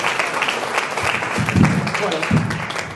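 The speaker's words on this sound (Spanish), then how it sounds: "les damos un fuerte aplauso y empezamos" An audience at a talk applauds to welcome the speakers, moderately loud clapping mixed with a speaking voice over it.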